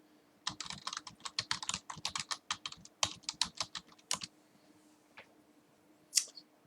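A computer keyboard clicks under quick fingers for about four seconds of soft, close keystrokes, then falls quiet apart from a couple of isolated taps.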